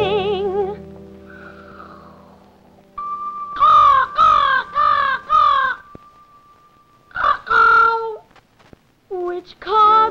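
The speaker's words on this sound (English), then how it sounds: "the crow opened her beak to sing" Crow caws in a 1961 television children's show, a run of four harsh caws followed by two more bursts, loud and close, with tonal music under the opening.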